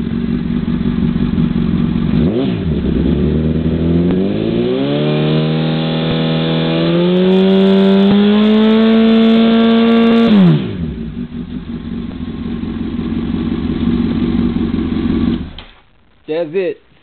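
A 2005 Honda CBR1000RR motorcycle with a newly fitted Micron exhaust revs hard nearby, its pitch climbing steadily for several seconds before dropping back to a loud idle, then cutting off, with brief voices after.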